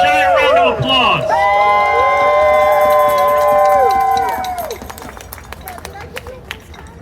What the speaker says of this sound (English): Let's give yourselves a giant round of applause.